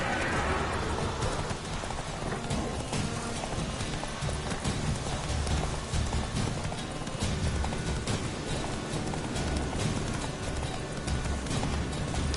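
Steady, continuous hoofbeats of a horse running in The Witcher 3, with dense game ambience and a light rain-like hiss throughout.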